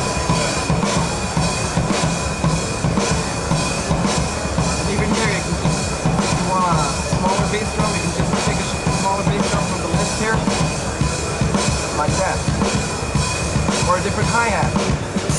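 A heavy rock groove plays on a sampled vintage Vistalite drum kit in Addictive Drums software: steady pounding kick and snare with constant washy cymbals, dense and loud throughout with no talking.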